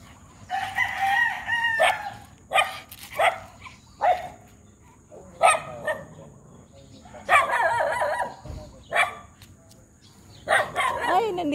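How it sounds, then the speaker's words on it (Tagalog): Dogs barking outdoors in repeated sharp bursts at an uneven rhythm, close and fairly loud, with a rooster crowing mixed in among the barks. "Tumatahol isang kaibigan nilang aso."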